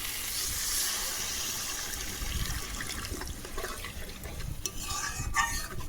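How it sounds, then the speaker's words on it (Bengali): Water is poured into a pan of well-fried spice paste for a fish curry, giving a steady close pour and splash that turns to bubbling and sizzling toward the end, with no one speaking. "এখন আমি এর মধ্যে পরিমাণ মতো জল দিয়ে দেবো"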